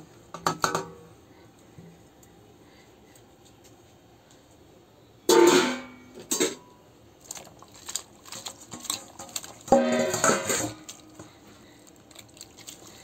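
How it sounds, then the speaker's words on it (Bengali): Taro is scrubbed and washed by hand in water, with brief bursts of splashing and sloshing separated by quiet pauses, close and moderately loud. "আমি ভালো করে কষলায় ধুয়ে নিছি"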